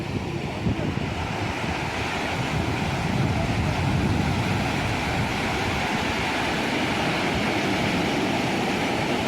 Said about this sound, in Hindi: समंदर समंदर जिसका कोई किनारा नज़र नहीं आता